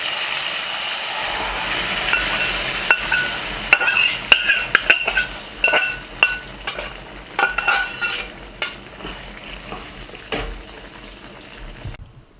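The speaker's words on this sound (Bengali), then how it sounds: "এবার আমি এর মধ্যে ঢেলে দেবো ডালটাকে" Lentils are poured into a pan of lightly fried onions for South Indian sambar, then stirred. A ladle scrapes and clinks against the pan in uneven, busy strokes over a low sizzle, close and fairly loud, with no voices.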